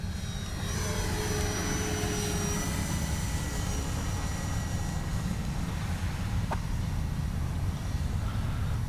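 A Durafly 1100mm T-28 Trojan electric RC model plane flying overhead during speed trials, giving a continuous steady whine and drone with a faint higher tone, constant loudness throughout.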